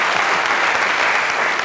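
Studio audience applauding on a Pakistani comedy talk show, a dense, steady wash of clapping heard up close and loud throughout, with no voices over it.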